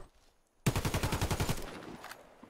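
An FN FAL DSS 58 Gold rifle fires a rapid burst of about a dozen evenly spaced shots in the game Warface, loud and close after a quiet moment, then fades into a short echoing tail.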